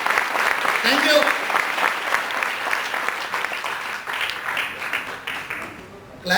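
An audience at a motivational talk claps loudly, a dense sustained burst of hands close by that thins out and fades toward the end, with voices mixed in underneath.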